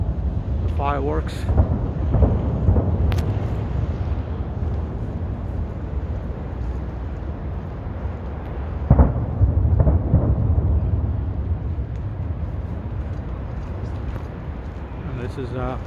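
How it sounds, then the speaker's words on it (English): Fireworks over Navy Pier in Chicago, heard from a nearby street as deep distant booms and rumbles under steady wind noise, with a few sharper cracks spread through the stretch. "You can still hear the fireworks."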